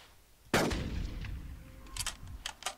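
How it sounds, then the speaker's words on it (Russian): A single loud gunshot from a hunting rifle in the video game Carnivores: Dinosaur Hunter Reborn, fired at a triceratops; a sharp close blast followed by a decaying echo and a few faint clicks. "Один выстрел, один труп."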